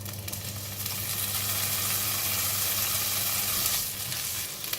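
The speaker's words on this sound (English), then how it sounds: "Now I'm going to cook the vegetable." Small-cut vegetables sizzle steadily in a hot pan for prawn fried rice, a close, even hiss of frying that holds constant throughout with no voices.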